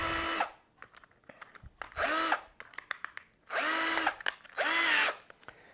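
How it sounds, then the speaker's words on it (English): Power drill with a larger bit countersinking a hole in a homemade glass scoring board, four loud whirring bursts separated by pauses filled with small clicks and handling noises. "I'm just going to put that in there and countersink it"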